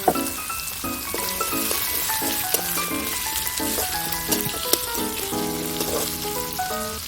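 Cut potatoes frying in oil left over from frying fish, a steady close sizzle running the whole time with a few brief clinks, while music plays over it.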